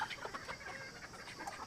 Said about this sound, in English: Oh, look we have a rooster fight over there.